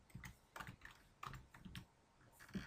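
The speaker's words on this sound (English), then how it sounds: "So I'm going to click on cell D1 and start typing" Keys tapped on a computer keyboard while entering values into a spreadsheet cell: quick, light clicks in small bursts with short pauses, close and quiet, with no talking.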